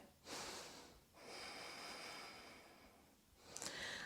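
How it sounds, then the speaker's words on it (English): Slow, deep breaths during a gentle yoga flow session, with two long drawn-out breath cycles, fairly close and soft, with no talking. "Final few rounds of breath here."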